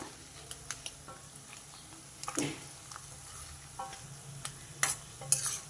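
Dried prawns fry in oil in a kadai and are stirred, giving a soft, steady sizzle broken by scattered scrapes and clinks of the spoon, fairly quiet and close.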